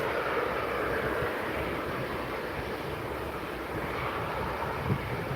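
A Ryanair jet holds on runway 23L at Manchester Airport, its engines giving a steady, broad, distant roar that swells slightly near the end, with no voices over it.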